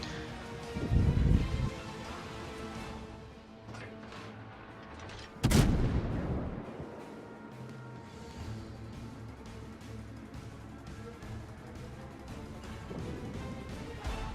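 Heavy naval guns firing HE shells in World of Warships, two loud booming salvos several seconds apart, each trailing a long rumbling decay over steady engine and sea ambience.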